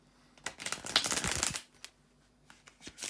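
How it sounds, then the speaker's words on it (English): A deck of tarot cards is shuffled by hand in quick riffling bursts with a few soft taps and pauses, close and fairly quiet, with no voices. "just bear with me a second, guys, to shuffle the cards"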